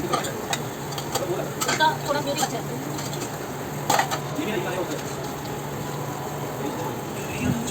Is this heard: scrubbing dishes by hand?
yes